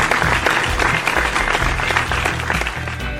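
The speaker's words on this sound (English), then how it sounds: "That was a really long clap." A church congregation gives long, sustained applause: dense, close clapping that runs without a break from start to finish and tapers only slightly at the end.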